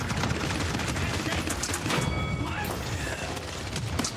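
Dense, continuous combat noise from the video game Paladins, with grenade blasts and rapid gunfire crashing together at high, steady loudness for several seconds.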